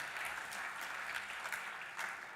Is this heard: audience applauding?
yes